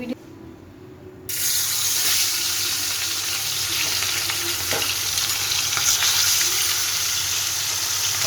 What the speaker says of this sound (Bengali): ডাল ভেজে নিচ্ছি